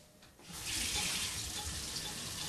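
Hot water gushes steadily from a household tap into a sink, a close, continuous rushing splash that starts abruptly and holds for a couple of seconds.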